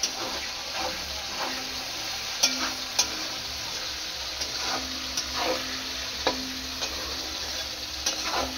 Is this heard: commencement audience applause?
no